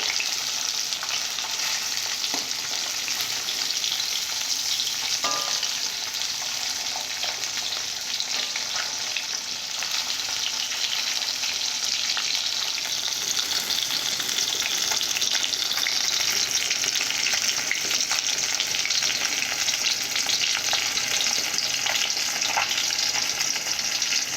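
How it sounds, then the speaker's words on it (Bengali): Fish frying in oil in a pan for a Bengali fish curry, a steady loud sizzle and crackle that runs unbroken throughout with occasional stirring sounds and no talking. "তবে মাছটাকে খুব ভালো করে ভেজে নিতে হবে"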